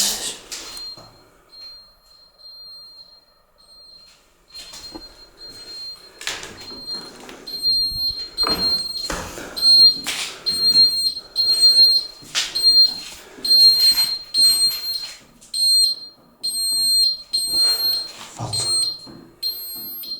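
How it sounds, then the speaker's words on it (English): A persistent high electronic alarm beeps on and off inside an abandoned mansion in Liverpool, mixed with creaks, knocks and footsteps as someone moves through the rooms; fairly loud and close. "I want to find the source to that alarm"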